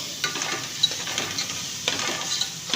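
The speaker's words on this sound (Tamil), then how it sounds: "போட்டு ஒரு கிண்டி விட்டுக்கிடுவோம்." A spatula stirs gravy in a pan after turmeric, garam masala and chili powder go in. The steady sizzle carries repeated scraping strokes, with a few sharper scrapes standing out.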